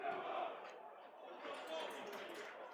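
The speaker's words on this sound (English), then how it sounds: "Listen to the crowd." Football crowd at a Millwall vs Cardiff City match makes a broad, distant roar and chanting wash, rising and falling, under someone speaking.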